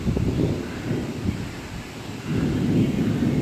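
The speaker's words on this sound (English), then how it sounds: "this about to be a thunder because I had missed the lightning that showed" Thunder rumbles low and heavy during a big windy storm with rain, surging in two broad rolls over constant wind noise.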